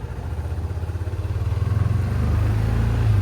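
A scooter engine running steadily at a low, even hum with a faint rhythmic pulse, close by and fairly loud, continuing alone without talk.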